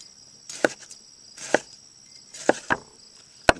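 A sharp knife chops juicy, slightly warm vegetables into bite-sized pieces, giving five crisp, separate strikes on a board with quiet pauses between them and no talking.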